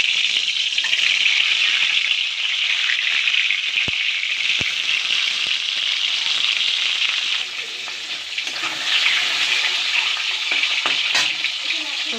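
Taro pieces coated with salt and turmeric frying in a pan, a loud continuous close sizzle with a few sharp clicks and a brief dip in intensity partway through.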